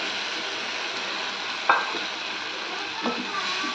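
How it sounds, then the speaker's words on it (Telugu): Tamarind water being poured and stirred into a simmering fish curry, a soft steady bubbling sizzle with a couple of brief scraping stirs of a spoon against the pot, close and alone. "ఇప్పుడు ఈ పులుపు ఇందులో వేసి"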